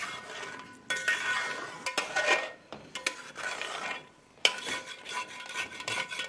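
A utensil scrapes and clinks against a pan while chicken changezi with cream and kasuri methi is stirred, intermittent close scraping strokes separated by short pauses, no talking.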